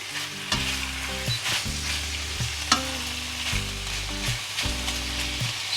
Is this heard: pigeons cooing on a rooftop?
no